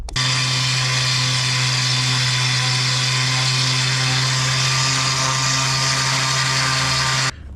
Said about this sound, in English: Now I'm gonna go ahead, sand this down, try to blend it in